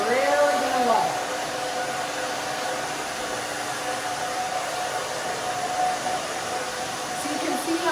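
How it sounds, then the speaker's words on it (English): A hair dryer blow-drying a pixie haircut, a loud, steady close-up whoosh that runs throughout, with brief whistling tones near the start and end. "So you can see how I'm drying this way."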